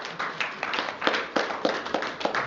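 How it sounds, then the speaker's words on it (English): Conference attendees in Leeds give a round of applause, a close, uneven patter of individual claps that pulses irregularly and fills the whole moment without talk. "Please give a round of applause to these people."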